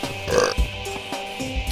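A person burps loudly after chugging a beer, a short deep croaking belch followed by a couple of smaller grunting burps, close and alone.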